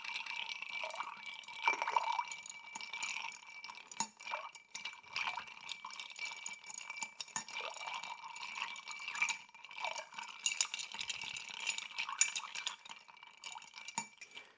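Ice swirls around a cocktail glass, producing a steady stream of soft, close clinks and rattles that keeps going throughout.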